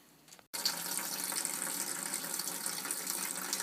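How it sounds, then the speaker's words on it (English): Boiled water poured steadily through a bed of malt while sparging ale, a continuous close rushing stream that starts abruptly after a brief pause and keeps flowing at an even volume. "I'm now very carefully sparging"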